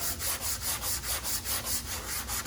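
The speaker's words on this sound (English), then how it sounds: "I'm going to sand in here a little bit. Like I said, this is 180." Car bodywork on a BMW is hand-sanded with 180-grit sandpaper in a steady back-and-forth rhythm of about ten rasping strokes, close and fairly loud, with no talking.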